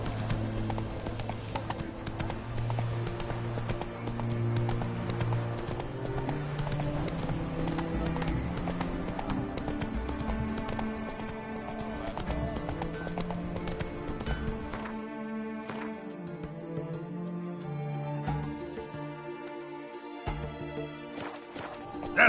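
Roach, Geralt's horse in The Witcher 3, trots with steady clip-clop hoofbeats under a constant layer of game music, an occasional whinny mixed in, and the music thins out near the end.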